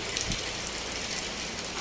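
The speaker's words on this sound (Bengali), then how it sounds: "এই যে বৃষ্টি পড়তেছে" Dense, steady hiss of heavy rain pouring down on surfaces, unbroken and close, with no one speaking.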